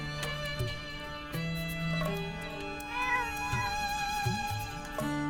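A black cat in The Legend of Zelda: Echoes of Wisdom gives several short, clear meows over a steady layer of game music with chiming tones.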